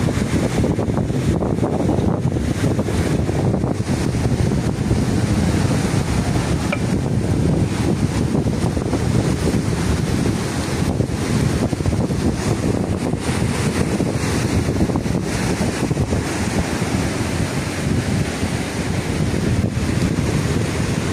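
On a beach in a storm, rough ocean waves clash with river waves, surging and crashing continuously, with heavy wind buffeting the microphone throughout; no voices.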